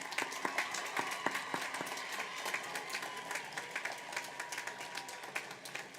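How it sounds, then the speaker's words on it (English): An audience at a high school graduation ceremony applauds steadily, many hands clapping at once in a sustained wash of sound that continues throughout. "Let's give them a round of applause tonight."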